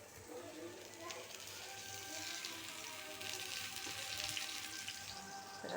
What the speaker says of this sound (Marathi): इथे आता तळण्याचं काम सुरू आहे